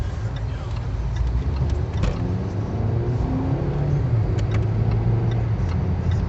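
A 2018 Range Rover Evoque Convertible with a turbo four-cylinder engine accelerates, a close, steady engine drone rising gradually from inside the cabin with faint clicking ticks scattered throughout.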